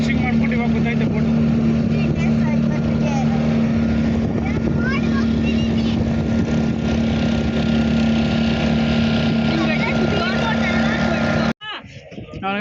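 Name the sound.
fishing boat engine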